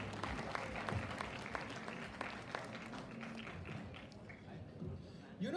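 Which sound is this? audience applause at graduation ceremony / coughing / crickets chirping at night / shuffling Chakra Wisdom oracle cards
audience applause at graduation ceremony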